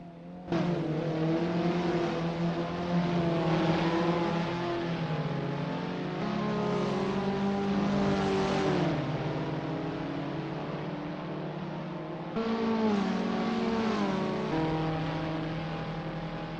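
Simulated Abarth 500 racers in Assetto Corsa around a Paris track: buzzing engine notes climb and drop through gear changes, a continuous mid-volume roar that cuts back sharply before revving up again.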